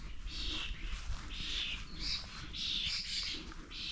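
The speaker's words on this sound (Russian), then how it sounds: "Птички поют." Small birds sing and chirp in repeated bright bursts among trees overgrowing old fortress walls, moderately close, over a soft outdoor background with no talk.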